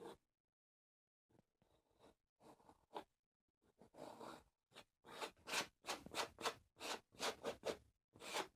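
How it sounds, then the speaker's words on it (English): A painting knife scrapes excess oil paint in a run of short, rasping strokes. The strokes start sparse and hesitant, then grow quicker and more regular, close and fairly quiet against near silence. "Just scrape that excess paint into there."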